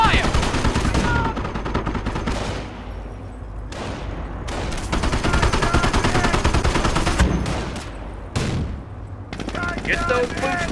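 Battlefield gunfire in the World War II strategy game Company of Heroes: loud bursts of machine-gun and rifle fire in rapid clusters with brief lulls, mixed with shouted soldier voices.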